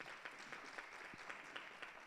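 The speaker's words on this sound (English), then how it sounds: "we need to clap hands for Sis Ntabiseng." Applause from an audience at an event, faint and distant, a dense steady patter of many hands clapping throughout.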